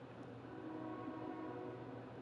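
A passing train, probably a long one, gives a steady, fairly loud rumble with a faint sustained horn tone over it. The sound stays even and continuous for the whole clip, with no talk.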